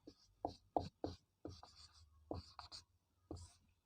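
Chalk or marker writing a square root on a classroom board during a math lesson: a series of short scratchy strokes in irregular bursts, fairly close and clear, with a low steady hum underneath.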